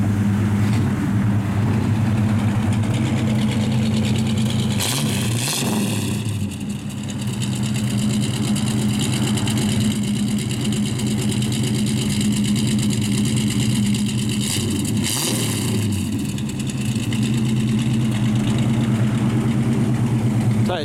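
Idling V8-style engine of a 1948 Chevrolet 3100 pickup fitted with dual exhausts and Walker mufflers, a steady close rumble throughout with brief blips around the middle and near the end.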